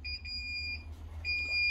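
A Grainfather home-brewing system beeps for its boil timer: a few quick, high electronic tones, then a longer steady beep, a short break and another beep, close by over a low hum.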